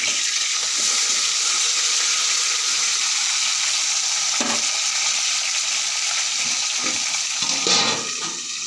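Fish fries in a pan with a steady, close sizzle that stays unbroken throughout, with a few soft knocks and scrapes of handling and no talking.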